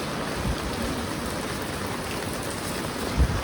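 Heavy rain in Mumbai with gutters overflowing onto the road: a steady, dense wash of rainfall and rushing water, loud and continuous, with a brief thump near the end.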